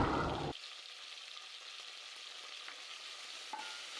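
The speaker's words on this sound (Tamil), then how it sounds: "அப்புறம் நம்ம அலசி வச்சுருக்க மட்டனை அது கூடவே போட்டு நல்லா வதக்கலாம்" Mutton sautéing in a pan for mutton curry, stirred as it fries; a brief loud burst of sizzling and stirring at the start gives way to a faint, steady frying hiss with occasional light scrapes.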